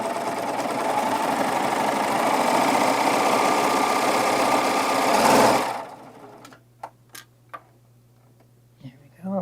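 Sewing machine stitching a tunic side seam in one continuous, loud, fast run for nearly six seconds, then stopping abruptly, followed by a few sharp clicks and taps nearby.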